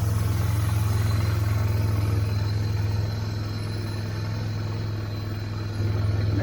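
A Yamaha Bear Tracker 250 ATV engine runs rough and steady up close, a constant low drone with faint clatter and slight dips in level, and no one speaking.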